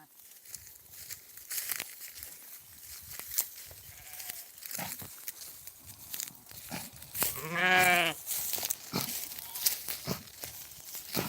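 A single loud, quavering sheep bleat near the end, with a fainter bleat earlier amid crunching, shuffling outdoor noise of a flock heading to water.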